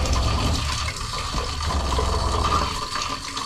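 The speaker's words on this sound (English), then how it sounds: "Some water coming out." Water rushing out of Airstream trailer plumbing during winterizing, a steady loud gushing and splashing flow that continues throughout, close by and with no talk over it.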